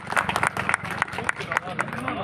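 Audience applause at an election campaign event, a steady patter of many hands with crowd murmur, sustained at moderate loudness throughout.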